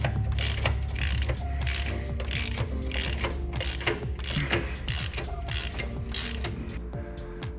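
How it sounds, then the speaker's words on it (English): Ratchet wrench with an E12 Torx socket backing out two Torx bolts on a BMW E90 sedan's suspension, a steady run of rapid clicking pawl strokes in repeated bursts, close and loud with no talk. "we're going to remove these two Torx bolts with an E12 Torx socket"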